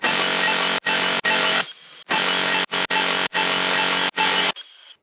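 Sustained synth bass mid and upper layers from Serum in a hybrid trap drop, playing dense buzzy chords in choppy rhythmic bursts with abrupt gated cutoffs, loud and up front.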